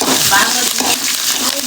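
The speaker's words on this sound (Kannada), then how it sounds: "ಈರುಳ್ಳಿ ಎಲ್ಲನೂ ಫ್ರೈ ಮಾಡ್ತಾ ಇದ್ದೀನಿ" Onions frying in a pan in a home kitchen, a steady close broadband sizzle with stirring scrapes, a few faint voice traces in the background.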